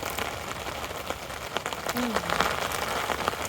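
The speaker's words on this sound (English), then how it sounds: "Oh, it's really raining." Steady heavy rain patters on a surface at a woodland camp with tarp and tent, a dense continuous hiss with scattered drops, fairly close.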